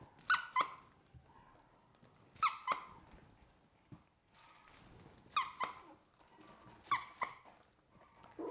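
A squeaky dog toy is squeezed in four sharp pairs of high squeaks at an even pace, close and clear, with quiet room sound and faint shuffling in the gaps for a litter of three-week-old Goldendoodle puppies.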